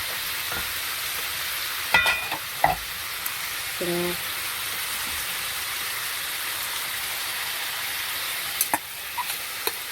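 Shrimp frying in a pan give a steady, soft sizzle throughout, with a few sharp clinks and scrapes of a utensil stirring; faint talking briefly underneath.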